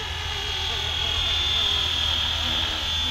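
Flywing FW450L V3 RC helicopter spinning up to lift off on its first flight, a steady high motor whine with constant rotor drone, close and loud throughout.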